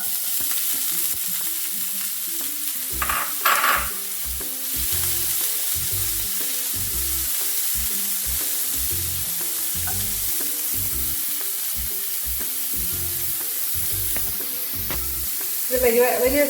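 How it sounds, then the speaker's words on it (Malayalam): A large onion sautés in about two spoons of hot oil for a spinach curry, giving a steady, close sizzle throughout with occasional clatters of stirring, louder near the start and the end. "വലിയ സവാള ഇട്ട് നമ്മൾ വഴറ്റിക്കൊണ്ടിരിക്കുകയാണ്."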